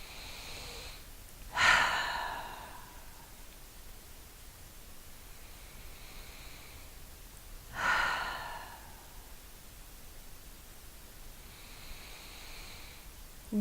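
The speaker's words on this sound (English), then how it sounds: "the next best thing is simply to take deep breaths" Two slow, deep breaths, each a soft airy rush with a long fading tail, about six seconds apart, close and fairly quiet over a steady hiss, with no talking.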